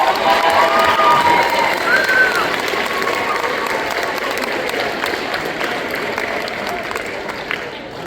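Applause and cheers fill a hall at a school band spring concert after a percussion award is announced, with loud sustained clapping, a few high whistles and crowd noise early on, then gradually easing.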